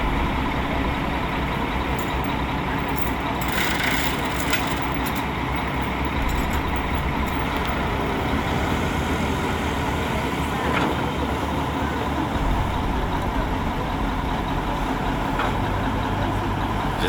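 Low, steady rumble of a dump truck engine idling on a rainy mountain road, heard at moderate distance as a continuous drone with a few faint clanks and no talking.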